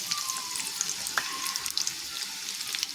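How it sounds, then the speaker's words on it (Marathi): Chopped ginger sizzling in hot oil in a pan for a samosa filling, a steady close crackling fry with small pops, alone without voices. "तेल तापल्यानंतर यामध्ये आपण अद्रकचे जे बारीक चॉप करून तुकडे केले आहेत ते घालून घ्यायचं"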